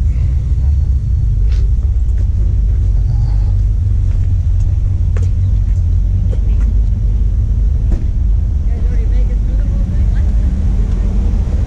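A car engine rumbles steadily and loudly at an outdoor auto show in St. Ignace, Michigan, a deep continuous drone near the listener with voices talking over it.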